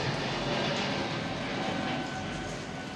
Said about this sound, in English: That's a plane over there.